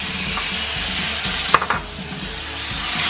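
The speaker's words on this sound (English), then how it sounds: "Once it's all caramelized, we're going to add our butter." Butter sizzling in caramelized sugar for homemade cinnamon rolls makes a loud, constant frying hiss, broken midway by a brief clatter and a burst of sharper crackling.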